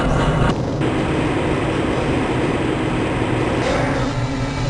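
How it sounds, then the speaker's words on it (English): Black Mesa transit tram from the Half-Life Blue Shift video game, a loud continuous rumbling roar of the rail car in motion, steady throughout with a slight shift in tone near the end. "This train is inbound from the Area 8 topside dormitories to the Central Transit Hub in Area 9"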